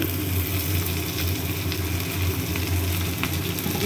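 Rice frying in ghee in a pan, a loud continuous sizzle close by with occasional stirring scrapes and no talk.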